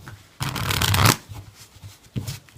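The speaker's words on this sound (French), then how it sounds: "on va avoir besoin donc d'un jeu de cartes qu'on va pouvoir mélanger" A deck of playing cards is shuffled up close: a dense riffling burst lasting under a second, then quieter shuffling and one more short riffle.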